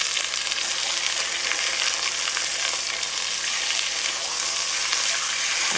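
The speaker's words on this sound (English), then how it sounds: "I just wanna brown up the sides just a little bit, just to hold that juice in as long as I can." Chicken breasts, pounded thin, browning on a Big Green Egg ceramic grill give a steady, close, dense sizzle that runs unbroken throughout with no talking.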